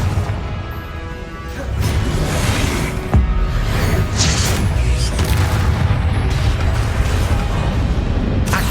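A Confringo blasting spell in Hogwarts Legacy strikes during an Ancient Titan boss battle, producing heavy booming blasts and crashing impacts with whooshing bursts, sustained and loud throughout.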